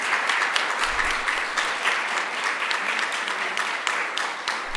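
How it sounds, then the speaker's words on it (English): A church congregation applauding, a dense, steady wash of many hands clapping that holds for several seconds at full strength, fairly close and loud. "can you just stand and applaud their journey"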